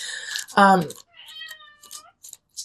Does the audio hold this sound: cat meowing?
yes